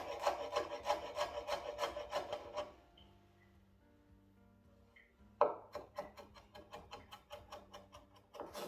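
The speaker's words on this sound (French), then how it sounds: "Et après, on n'a plus qu'à hacher." A knife chops crushed garlic on a cutting board in a rapid, even series of dry taps. The chopping pauses for a few seconds, then starts again close up.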